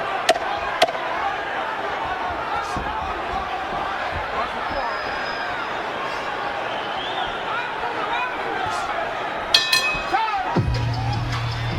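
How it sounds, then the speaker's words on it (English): Arena crowd at a boxing bout between Jake Paul and Julio César Chávez Jr., a steady broad roar of murmuring and cheering throughout, with a few sharp pops and a louder swell near the end. "The crowd still engaged despite the lack of success from Chaves Jr. so far."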